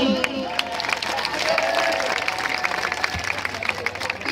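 A crowd at a Pakistan Independence Day celebration claps together, producing a dense, steady patter of hand claps that runs throughout, with voices mixed in.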